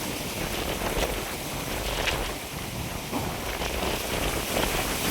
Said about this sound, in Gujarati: હવે વરસાદ આવી છે ને એટલે આવું જ થાય.